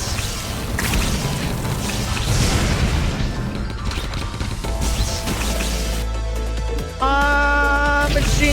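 Rocket weapons explode in the video game Wall World, a dense barrage of booming blasts and crashes layered over continuous game noise, followed by a bright electronic tonal effect near the end.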